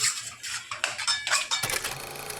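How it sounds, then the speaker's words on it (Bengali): Taro greens stirred and fried in a pan with turmeric, a close rhythmic series of scraping spoon strokes and soft clinks against the metal, fairly quiet and steady throughout. "এখানে আমরা খুব ভালো করে কষাচ্ছি।"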